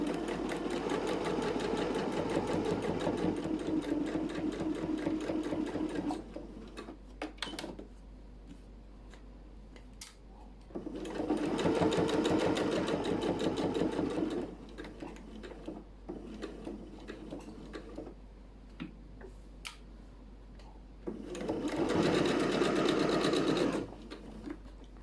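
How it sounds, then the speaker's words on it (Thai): A sewing machine stitching a quarter-inch seam on a quilt block: three steady runs of fast, close mechanical whirring, each a few seconds long, with quiet pauses and small clicks of fabric handling between them. "แล้วเราก็มาเย็บด้วยตะเข็บเศษ1/4 นิ้วเหมือนเดิมค่ะ"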